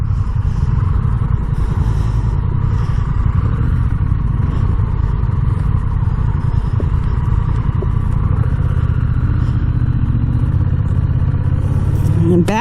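A 2021 Honda Rebel 1100 with a manual gearbox rumbles close and loud as it pulls away, its engine drone steady with clattering mechanical noise and a rising rev near the end.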